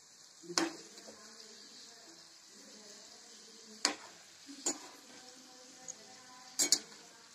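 Modak frying in a pan of hot oil for a Gajanan Maharaj offering, a quiet steady sizzle with sharp spatter pops and clinks now and then, fairly near and faint.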